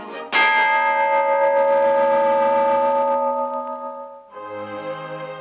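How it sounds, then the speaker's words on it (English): A single loud, gong-like metallic clang rings out from a cartoon head being struck, then sustains and slowly fades for about four seconds before a second, quieter ringing tone takes over. "a head can't sound like a gong"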